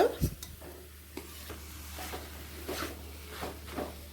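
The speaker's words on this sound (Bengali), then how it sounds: "বাকি মশলাটায় আমি এঁচোড়টা দিয়ে ভালো করে কষিয়ে নেব" Young jackfruit stir-fried in spice paste in a pan, with a soft sizzle under repeated scraping stirs of a spoon against the pan, close and fairly quiet.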